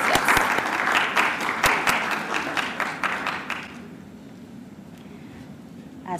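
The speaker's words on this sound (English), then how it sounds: "Round of applause, yes." Guests at an awards dinner clap in a loud, close burst of applause with sharp individual claps, tapering off after about four seconds into quieter room noise.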